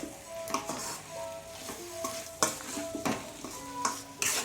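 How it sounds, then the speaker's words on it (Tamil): Chilli powder frying in oil for a chicken gravy served with ragi kali, stirred with a utensil: soft sizzling under repeated close scrapes and taps against the pan, at an irregular rhythm. "இந்த எண்ணெயில் நல்லா வந்து அந்த மிளகாத்தூள் ஸ்மெல் போடுறதுக்கு நல்லா மிக்ஸ் பண்ணிக்கிறேன்"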